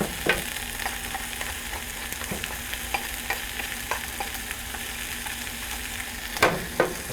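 Onions with freshly added peas cook in a pan, giving a continuous close sizzle and occasional sharp stirring clicks and scrapes, louder near the end.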